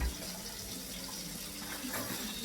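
Cold water runs from a kitchen tap into a sink while cooking chicken teriyaki, a quiet steady splashing flow without pause.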